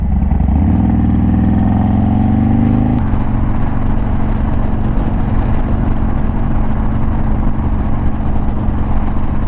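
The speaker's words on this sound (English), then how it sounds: "It's very crackly. But I've also got a thunder header on it, so that might be part of the crackly." A Harley-Davidson Dyna motorcycle with a Thunder Header exhaust revs up close by for a few seconds, then drops into a loud, rough, crackling idle that runs on steadily.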